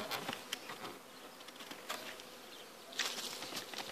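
Honeybees at a beehive, the strongest colony in an apiary, make a steady close buzz for about four seconds, with scattered louder passes of individual bees flying near. No one speaks.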